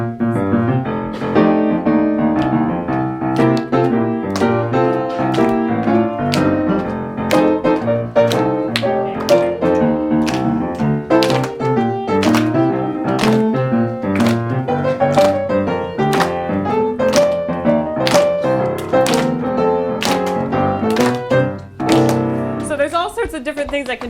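Piano played in a shuffle rhythm, with a steady stream of bouncy, evenly spaced chords and notes over about twenty-four seconds, loud and close with no talking.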